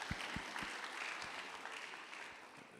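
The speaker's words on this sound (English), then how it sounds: "Let's clap hands for him." Audience members at a safety conference applaud, a soft, distant patter of clapping with a few sharper nearby claps, fairly quiet throughout.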